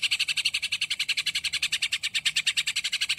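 A green leafbird (cucak ijo) sings a fast, rapid-fire trill of bright repeated notes in a steady rolling rhythm, close and loud, with no talking.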